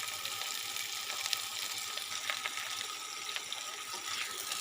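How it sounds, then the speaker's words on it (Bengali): Maris greens fry in hot cooking oil in a wok with a steady, loud, close sizzle and crackle, a continuous hiss with small pops, and no talking. "মারিচ শাকটা হালকা করে ভেজে নিচ্ছি"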